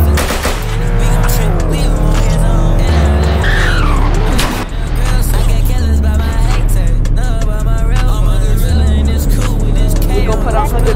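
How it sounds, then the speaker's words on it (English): A car drifting in a Roblox video game, its engine roaring steadily with long tire squeals rising and falling throughout, loud and continuous over thumping background music. "I'm about to fucking drift, Freddy."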